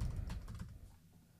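Quick bursts of key taps on a computer keyboard while setting up a Windows program shortcut, fairly close and clear at first, then fading lower, with no voices.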